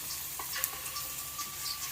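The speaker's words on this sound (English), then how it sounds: "fry the bamboo shoots" Bamboo shoots fry in a pan for kinpira, giving a soft, steady sizzle at low level with a few light utensil taps and scrapes, no voices.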